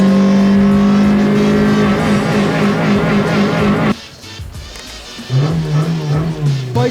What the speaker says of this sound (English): sounds like he's drifting